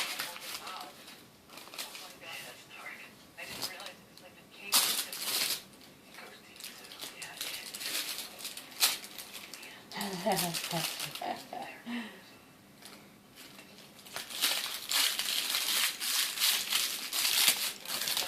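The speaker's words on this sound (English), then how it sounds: "Somebody likes to play with that paper." A small pet batting and chewing a sheet of paper indoors, giving bursts of close, sharp crinkling and rustling that come and go in uneven flurries, with an adult talking affectionately over much of it.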